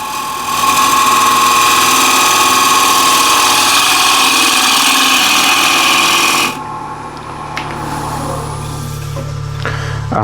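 A bench grinder with a 60 grit wheel runs loud and steady with a whining hum, then drops off sharply partway through, leaving a quieter, rougher running sound.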